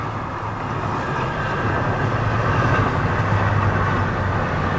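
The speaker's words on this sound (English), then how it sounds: "that's a train going by" A train passes near a park as a steady, loud low rumble and rolling roar that holds for the whole stretch without a break, with no talking.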